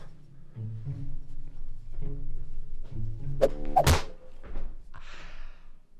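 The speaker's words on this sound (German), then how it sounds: "Eventuell ist mir die Brechstange gerade volle Lotte gegen den Ellbogen geknallt." A crowbar slams against a character's elbow in the video game Thief Simulator 2: one sharp, loud thunk with a brief ringing edge stands out over the game's low, droning background.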